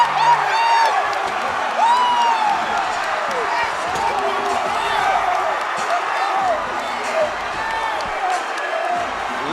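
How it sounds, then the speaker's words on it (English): An arena crowd at an AKA lightweight title fight roars and cheers for a new champion, a loud, sustained wall of whoops and shouts with scattered whistles throughout. "Listen to this crowd, every single person on their feet for their new AKA lightweight champion, Hunter Headshot Smith."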